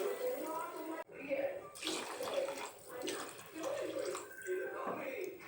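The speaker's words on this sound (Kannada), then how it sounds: "ಒಂದು ಲೋಟ ಅಕ್ಕಿ ತಗೊಂಡಿದ್ದಕ್ಕೆ 2 ಲೋಟ ನೀರು ಹಾಕ್ಕೊತಾ ಇದ್ದೀನಿ." Water pours steadily onto rice in a cooking pot for chicken biryani, a continuous splashing gush that briefly breaks off, then resumes, with a voice faintly present beneath it.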